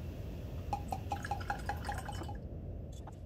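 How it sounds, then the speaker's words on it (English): Diluted seawater drips from a pipette into glass Erlenmeyer flasks in a lab, a rhythmic run of small, close liquid drips over a faint background hum. "I use a pipette to quantitatively sample 5 ml of dilute seawater solution into the"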